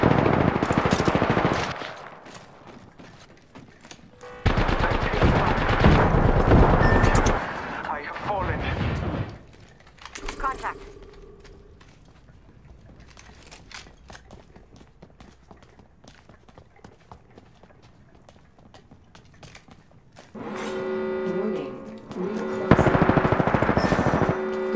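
Bursts of automatic gunfire and heavy shooting from the Apex Legends battle royale on PS4, loud and close, in two dense stretches separated by quieter game ambience, with a voice speaking briefly between.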